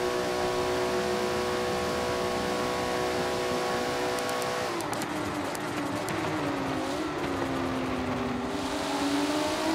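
Prototype race cars roar past on the Daytona circuit, engine notes climbing and sweeping in pitch as they speed by, with a steady loud roar throughout and a shift in engine tone midway.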